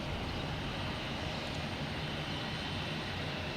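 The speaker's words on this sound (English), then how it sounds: "We have Delta coming in here, 737." A Delta Boeing 737-800 jet, flight from Miami, on approach into Boston Logan gives a steady, even broadband roar that holds at a constant moderate level throughout, with no voices.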